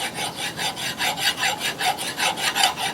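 A hand file dresses the blade from the cutting deck of a Simplicity Sunstar mower, rasping back and forth in a quick, even rhythm of about a dozen close, crisp strokes with no speech over it.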